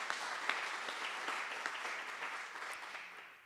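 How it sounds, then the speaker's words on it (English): An audience applauds sponsors at the 2022 Dog Iron Awards inside the historic Will Rogers Memorial Museum in Claremore, Oklahoma: dense, steady clapping from a sizeable crowd that holds at one level, then gradually thins and fades toward the end. "Please give them a round of applause."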